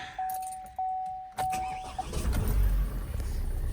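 A Vauxhall Mokka 1.7 CDTI diesel with a failed flywheel, a few faint mechanical clicks and a tone, then the engine cranks and fires into a low, rough idle close by.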